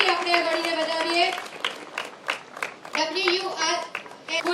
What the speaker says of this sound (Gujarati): જોરદાર તાળીઓના ગડગડાટ સાથે રમતવીર બાળાનું ઉત્સાહ